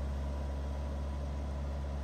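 A Volvo XC60 SUV engine works on an off-road slope, giving a steady, loud low-pitched drone that holds evenly without a clear rise or fall in revs.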